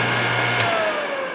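A Thorvie AV-40 sharpening machine's motor running during blade sharpening: a loud, steady, close hum, broken by a single brief click partway through.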